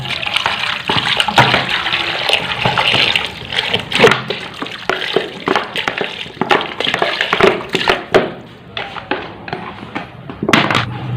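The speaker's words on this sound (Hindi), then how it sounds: "अब हम इसमें पानी डाल देंगे।" Water poured into a pressure cooker holding washed beef trotters for paye, a steady splashing, gurgling stream that fills the pot close up, with brief louder surges.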